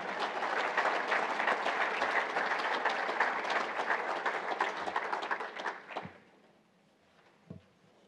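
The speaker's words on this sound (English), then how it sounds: "so round of applause." A crowd claps steadily and fairly loudly at a university awards celebration honoring scholar athletes, then the applause tapers off and stops, leaving a couple of faint stray sounds.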